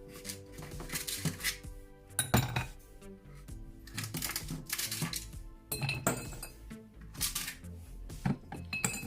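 Hard cubes clink and clatter into a glass in several bursts, with sharp ringing knocks between quieter pauses.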